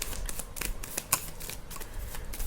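Tarot cards are shuffled and drawn by hand in quick, irregular riffles and soft slaps, close by and fairly quiet, with a sharper snap midway and no talk over them.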